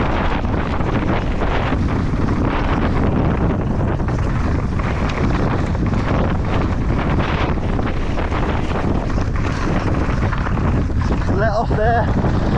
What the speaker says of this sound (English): There's a massive side wind.